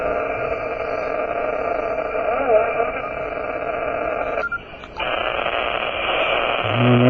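Steady radio-frequency interference hiss and buzz on an amateur ham radio band, strong and constant with tonal bands, briefly dipping quieter around the middle, with no noise reduction or blanking applied.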